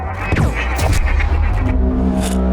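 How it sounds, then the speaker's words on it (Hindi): Gunshots heard down a phone line in a crime drama: a loud burst of sharp, overlapping bangs and booming reports packed into a couple of seconds, dense and continuous rather than cleanly separated. "सर फोन पे ना मुझको गोली चलने की आवाज सुनाई दी"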